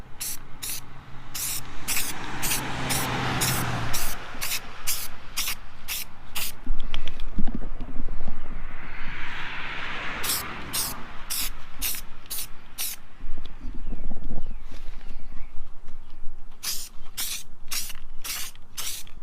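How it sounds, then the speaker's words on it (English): Aerosol can spraying keel protection coating onto a kayak hull, a series of short close hissing bursts in two separate runs with pauses between, over faint background noise. "you just apply it like you would any normal spray paint"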